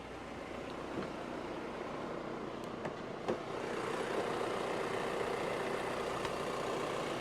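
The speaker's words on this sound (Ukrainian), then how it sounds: "Дволітровий мотор, 110 кВт." VW T6 Lang van with a 2.0 TDI 110 kW diesel engine idling with the hood open, a steady low rumble with faint clatter heard up close and at an even level throughout.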